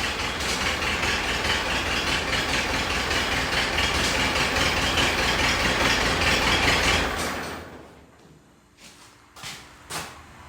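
A diesel farm tractor idles steadily and loudly for about seven seconds, a dense low rumble, then cuts off abruptly, leaving faint residual clatter and a few quiet knocks.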